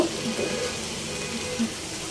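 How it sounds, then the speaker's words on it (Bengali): Okra fries in a pan with a soft continuous sizzle, steady and moderately close, with no voices. "রান্না করতে আসলাম এখানে একটু ঢ্যাঁড়স ভাজা করব"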